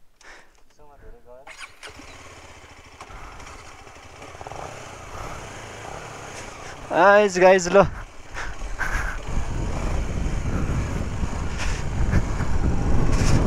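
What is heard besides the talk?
adventure motorcycle engine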